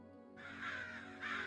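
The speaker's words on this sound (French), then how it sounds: "Votre discussion est brusquement interrompue par un fracas d'ailes et des croissements stridents." Harsh crow caws ring out twice over a low background hum, loud and close, as a sound effect in a French fantasy tabletop role-playing session.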